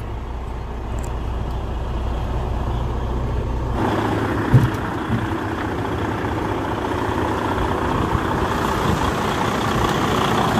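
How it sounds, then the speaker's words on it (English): A big rig's Detroit DD15 diesel engine cranks and starts, then settles into a steady, loud, deep idle rumble that continues to the end. "let's crank it up. Take a look at the motor. Cranks right up."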